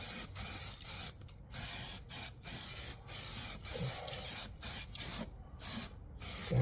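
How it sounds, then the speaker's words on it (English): Aerosol zinc weld-through primer is sprayed as an undercoat onto hard-to-reach metal edges, a close hissing spray in a rhythm of repeated bursts with brief gaps between them. "So sort of spray all the edges that are hard to get to first."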